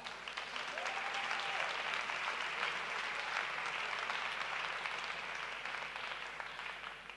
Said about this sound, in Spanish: os pido, por favor, un fuerte aplauso para Ciencia de Sofá.